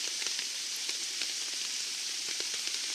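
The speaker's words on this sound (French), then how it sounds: "Bon, comme on peut le voir, la pluie a redoublé d'effort." Steady rain pattering on a tarp shelter over a bushcraft camp in the woods, a dense continuous hiss with scattered sharper drops, close and even throughout, with no voices.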